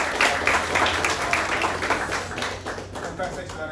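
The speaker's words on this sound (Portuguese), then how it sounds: "Uma salva de palmas para o Fabrício." A crowd claps in a burst of applause, dense and fairly close, fading slightly toward the end.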